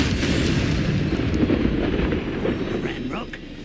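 A Confringo fire spell blast in the Hogwarts Legacy PC game: a loud, sustained roaring rumble with a fiery, crackling wash that slowly fades. Faint game chatter sits underneath.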